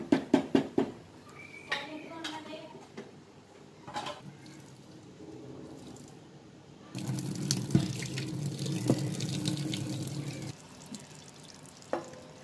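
Water drains from half-cooked rice for chicken dum biryani, a rushing, splashing pour that swells louder midway after some clattering handling sounds, with a voice talking at times.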